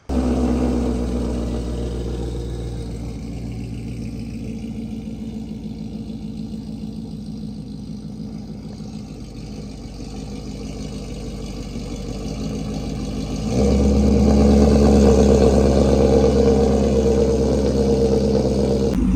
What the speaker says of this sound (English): now we're gonna start up the car, and we're gonna drive over